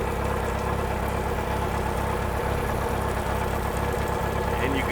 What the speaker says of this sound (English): it actually is running and idling the way it's supposed to